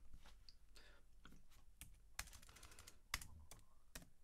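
Code being typed on a computer keyboard while scripting Python in Cinema 4D: soft, irregular keystrokes in short bursts with a few sharper taps, quiet and close with no voice.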